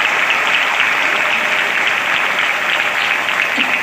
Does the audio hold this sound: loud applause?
yes